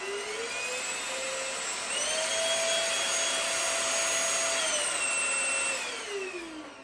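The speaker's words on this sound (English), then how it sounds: "You could basically just go ahead and use the vacuum, and it works really well." An 8-in-1 cordless vacuum cleaner runs alone with a loud, steady whine. Its pitch steps up partway through as the speed setting changes, then drops back down near the end.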